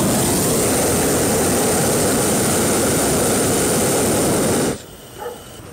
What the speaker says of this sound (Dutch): Als ze dat lawaai horen van die brander.